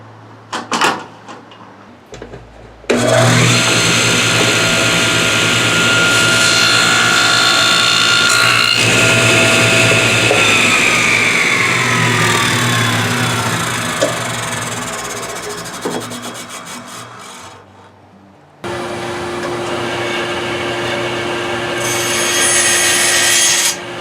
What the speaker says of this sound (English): The next thing I'm going to do is rip a little groove right there using a table saw.